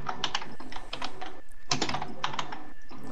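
Rapid typing on a computer keyboard during a Worms Reloaded game session, with close, clicky keystrokes coming in quick bursts and one short pause partway through.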